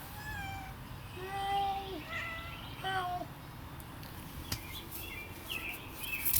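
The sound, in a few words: big fluffy gray cat meowing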